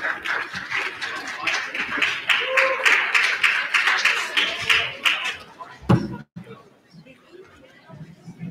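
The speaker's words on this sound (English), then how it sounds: "One more round of applause" Audience at a student engagement conference claps for a political science professor, a scattered, moderately loud round of applause with crowd chatter that stops abruptly near the end, leaving a quieter room.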